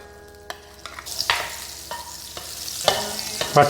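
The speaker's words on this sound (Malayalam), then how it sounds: "കടായി ചൂടായിട്ട് വരുമ്പോൾ ഒരു ചെറിയ കഷ്ണം വെണ്ണയാണ് ഇട്ട് കൊടുക്കുന്നത്, ബട്ടർ" A small piece of butter melting in a hot kadai, a steady soft sizzle building over a few seconds with scattered scrapes and clinks of a utensil against the pan, close and moderately loud, no talking.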